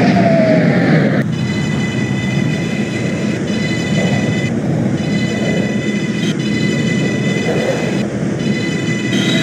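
NYC subway 6 train on the Lexington line running in the OpenBVE simulator, a loud steady rolling roar with tonal motor whine layered above, continuous throughout with a sharp clank near the start.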